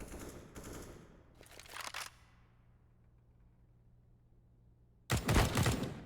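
Gunfire from a Counter-Strike match on the Mirage map comes in three sharp bursts, two close together at the start and a louder one near the end, separated by a quiet stretch of faint game ambience.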